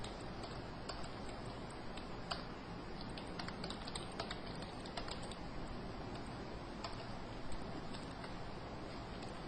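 Someone types on a computer keyboard, a fairly faint run of irregular clicking keystrokes over a steady background hiss, with no speech.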